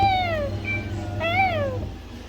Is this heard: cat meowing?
yes